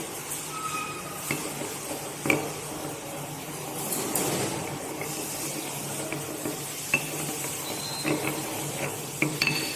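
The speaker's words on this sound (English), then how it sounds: "Now when you are using mortar and pestle, always you have to rotate it in, triturate it in unidirection" Zinc oxide being triturated in a mortar with a pestle for calamine lotion, a steady close gritty scraping and grinding with occasional sharper clicks of the pestle against the bowl, no talking.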